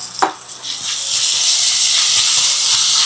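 Crushed spices tipped into golden fried onions in a hot pan, a sharp hit followed by a loud, steady sizzling hiss that swells and holds close up, with no talking.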